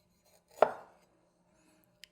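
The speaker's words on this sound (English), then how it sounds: "I'll tackle the first nub first, and then I just kind of peel it with the knife." A knife peels a nub for Hainan chicken rice, making a single short, sharp cut against a board, followed by near silence and a faint tap.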